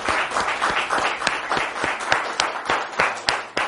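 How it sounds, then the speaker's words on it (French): Studio audience on a French television talk-show set applauding themselves, a dense steady wash of many hands clapping with sharp individual claps standing out, continuous and fairly loud throughout. "je vais vous demander une énième fois de vous applaudir vous-même parce que vous êtes avec nous sur ce plateau"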